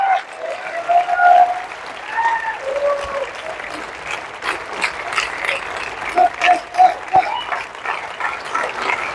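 Clapping from the audience at an RCM business seminar, uneven and mid-level, with sustained melodic tones running through it and loudness swelling in waves.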